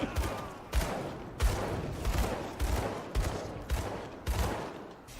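Gunfire in the Grim Dawn action game comes in about eight evenly spaced, punchy shots, each with a short echoing tail, at moderate volume.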